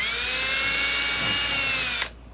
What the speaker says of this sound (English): So let's go ahead and drill a hole where we're going to put our anchor.